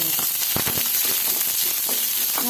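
Onion sautés in a pan with ginger and green chili, giving a steady close sizzle with scattered crackles and soft stirring scrapes throughout.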